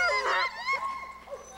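Sled dogs of a mushing team bark, yip and whimper in an excited chorus early in the morning before training for an Arctic expedition, several voices close and overlapping in rising, wavering cries.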